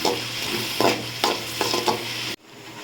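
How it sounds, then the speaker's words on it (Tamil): Vegetables with curry leaves and a little salt sautéing in a pan for egg Maggi, a steady close sizzle with several bursts of stirring scrapes, then it cuts abruptly to near silence. "கொஞ்சமாக உப்பு சேர்த்து நல்லா வதக்கிக்கலாம்"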